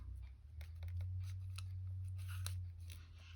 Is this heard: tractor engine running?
no